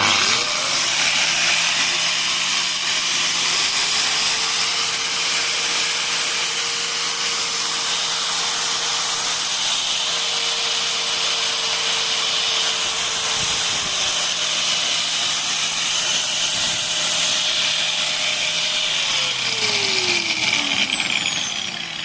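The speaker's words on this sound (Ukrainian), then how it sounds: "можемо під'єднати відразу болгарку 980 Вт і дрелька 720" Loud, continuous whine of a 980 W angle grinder and a 720 W drill running together off a 12V-to-220V power inverter, a steady high-pitched motor drone with slight pitch shifts, no talking.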